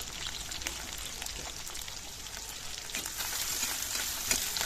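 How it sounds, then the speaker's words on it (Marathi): Garlic and green chillies fry in a pan with a steady, moderately quiet crackling sizzle like light rain, a few faint spatula touches and a small click near the end, with no voices. "लसूण छान लालसर होईपर्यंत परतून घ्यावा।"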